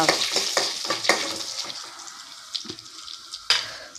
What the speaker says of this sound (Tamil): நல்லா எண்ணெய் விட்டு வதக்கியாச்சா